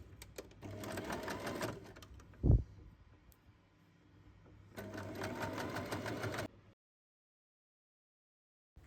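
A sewing machine stitches fabric and its lining together in two steady mechanical bursts, briefly interrupted by a sharp thump, then silence.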